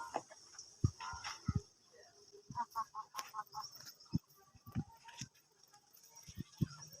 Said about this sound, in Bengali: এই দেখো বন্ধুরা, পায়রাগুলো এখানেই আছে সব।